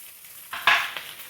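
Chicken apple sausages dropping into a hot pan, a sharp burst of sizzling that flares up and then fades, with a brief scrape partway through.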